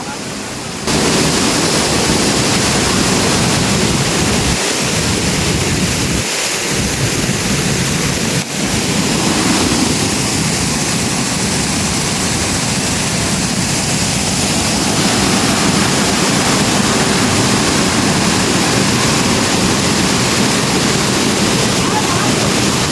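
Durgapadu waterfall on the Andhra–Odisha border, a steady broadband roar of falling water that runs unbroken and loud throughout, with a couple of brief low thumps early on.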